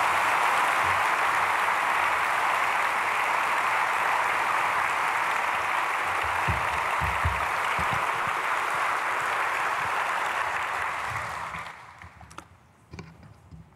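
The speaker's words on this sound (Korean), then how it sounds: "박수로 맞이하겠습니다." A church congregation gathered for a summer revival meeting applauds in a long, loud sustained wash of clapping that fades out near the end, leaving a few scattered claps.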